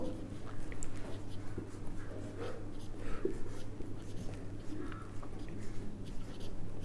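A pen writes on paper during an accounting lesson, with soft scratching strokes in short bursts over a low steady hum and faint background noise.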